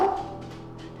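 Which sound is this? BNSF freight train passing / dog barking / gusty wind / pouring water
dog barking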